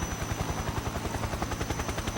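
Helicopter in Metal Gear Solid 3: Snake Eater, a steady rapid rotor chop thudding throughout with a constant engine whine, loud and close with no voices.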